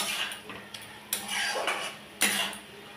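A spoon clatters and scrapes against a pan while lau shak (bottle gourd greens) curry is stirred, with several sharp metallic knocks spaced across a few seconds at moderate volume.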